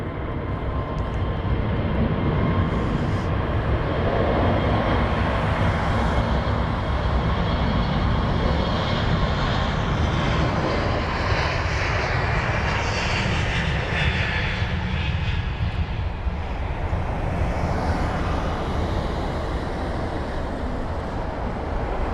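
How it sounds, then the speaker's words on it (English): Middle East Airlines Airbus A321neo, a two-year-old jet, taking off at London Heathrow: a steady, loud engine roar that holds throughout and slowly shifts in tone as the aircraft climbs away. "There is gliding away the Airbus A321neo."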